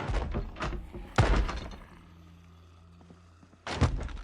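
Zombies in the game Project Zomboid bang on a door from behind, heavy repeated thuds and slams in irregular clusters, close and loud, with a quieter pause in the middle before another burst.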